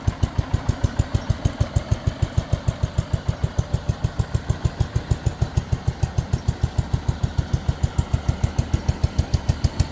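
The engine of a White Town & Country 112H garden tractor runs steadily at a fast, even idle, its rapid thumping pulses loud and close for the whole stretch with no talking.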